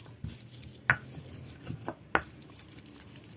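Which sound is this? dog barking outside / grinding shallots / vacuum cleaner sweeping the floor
grinding shallots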